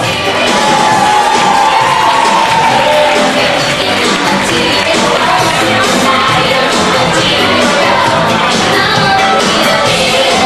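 A nightclub crowd at a Transfilata show at the Oktagon roars for a couple, with dense continuous cheering, whoops and shouts close and loud throughout.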